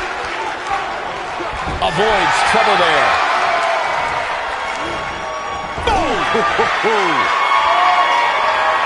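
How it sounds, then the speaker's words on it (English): Wrestling arena crowd in the WWE 2K19 video game cheering loudly and steadily throughout, swelling near the end, with commentators talking over it and occasional thuds of ring impacts. "By the sound of this crowd, I don't think he's the only one feeling that way."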